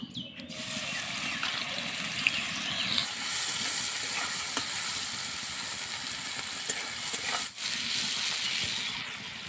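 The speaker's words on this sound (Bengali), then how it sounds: "তেল গরম হয়ে গেছে এবার চিংড়ি মাছটা বেজে নেব" Prawns coated in salt and turmeric frying in hot oil: a continuous close hissing sizzle with faint bubbling, steady throughout with a brief dip near the end.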